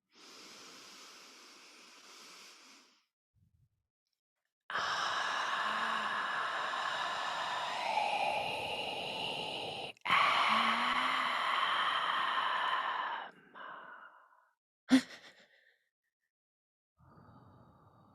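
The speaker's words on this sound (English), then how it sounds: "Just allow, nice deep breath in." Slow, deep breaths drawn in during a guided meditation, heard as long, soft airy hisses in separate close-up stretches, with short gaps of silence between them and a sharp click near the end.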